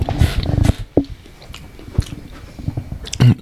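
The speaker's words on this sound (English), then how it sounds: "I'm trying to chew in the microphone" Chewing close into a microphone, loud wet bites and crunchy mastication in irregular bursts, with quiet pauses between them.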